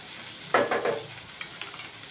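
Vegetables softening in a pan over medium or low heat for white sauce pasta, giving a soft, faint sizzle with a few brief stirring scrapes.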